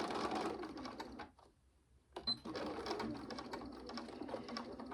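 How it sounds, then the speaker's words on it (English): A sewing machine runs a quarter-inch seam across the top of a fabric drawstring bag, a steady close whir of rapid stitching that pauses briefly mid-way before resuming at the same even pace. "So we'll just stitch across the top there with a 1/4 inch seam."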